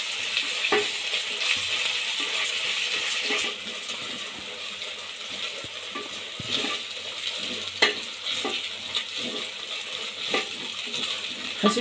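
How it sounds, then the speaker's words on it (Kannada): Ginger garlic paste fries with onions in a pan for green chicken biryani: a constant hiss of sizzling oil, broken by spoon scrapes and occasional sharp metallic clinks against the pan, close by and without speech. "ಹಸಿ ಸ್ಮೆಲ್ ಹೋಗೋವರೆಗೂ ನೀಟಾಗಿ ಹುರ್ಕೊಳ್ಳಿ."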